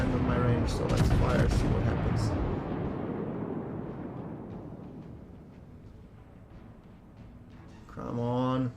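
A broadside from the battleship USS South Carolina (BB-26) in World of Warships: a heavy, booming volley of gun blasts that rolls and fades over several seconds. A voice speaks briefly near the end.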